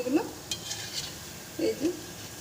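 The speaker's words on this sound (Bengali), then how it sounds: "এই যে হালকা আছে আমি ভেজে নিয়েছি, এরকম লাল লাল একটু হবে।" Mango phulori fritters sizzle softly in hot oil and are stirred in a pan. Two brief bursts of scraping and bubbling sit over a faint, steady hiss, recorded close but quiet.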